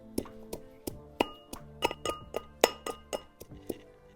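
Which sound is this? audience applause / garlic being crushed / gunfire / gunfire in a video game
garlic being crushed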